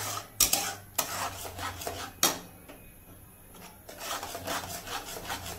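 Mango pulp cooked in a pan for sandesh is stirred and scraped with a spatula: a few sharp knocks against the pan, then soft, uneven rubbing and scraping strokes close by.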